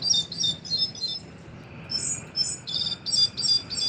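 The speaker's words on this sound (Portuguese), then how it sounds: "o som em questão é do sabiá ferreiro, o Turdus subalaris" A sabiá ferreiro thrush (Turdus subalaris) sings a series of short, bright, metallic chirped notes in quick rhythmic clusters, with a brief pause between two runs, clear and fairly close against a quiet background.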